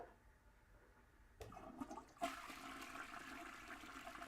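A toilet flushes with a sudden loud rush of water that swells and keeps gurgling steadily. A quieter noise comes just before it.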